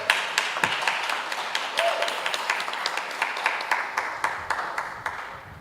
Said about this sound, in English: Give our 17 centenarians a round of applause for you.